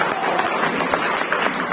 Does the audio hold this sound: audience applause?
yes